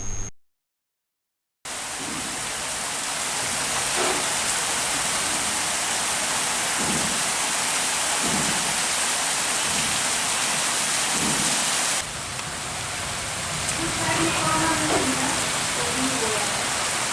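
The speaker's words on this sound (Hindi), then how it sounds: "मौसम सुहाना हो चला है, काले बादलों ने आसमान को ढक रखा है और रुक रुक कर हो रही झमाझम बरसात" Heavy monsoon rain pours steadily under dark clouds in Darbhanga, a dense, loud wash of falling water with low rumbles of thunder rolling through at intervals.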